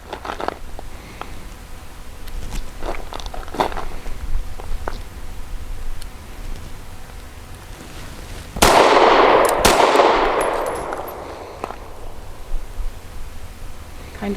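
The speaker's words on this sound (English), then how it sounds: "here goes my 10 control, or 5 controlled pairs for 10 shots" Controlled pairs of shots from a SAR USA B6C pistol at a range, heard as sharp reports, with one loud burst ringing out near the end over a quiet background.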